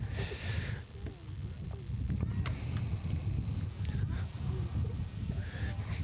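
A big eight-year-old quarter horse moves around at a ranch production sale, hooves thudding softly over a steady low outdoor rumble, with faint scattered clicks and a brief distant high call.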